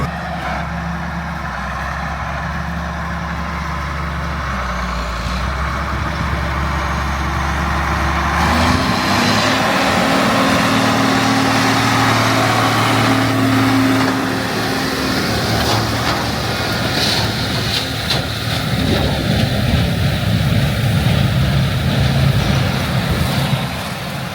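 A Case 2294 tractor's engine drones steadily as it drives back to the shop, the low rumble shifting in pitch and load partway through as the gear changes, with no talk over it.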